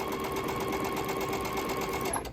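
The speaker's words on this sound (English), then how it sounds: "I am sewing that diagonal" A sewing machine stitches a diagonal seam across a signature quilt block, running in one steady, close, continuous mechanical hum for the whole stretch with no pauses and no voices.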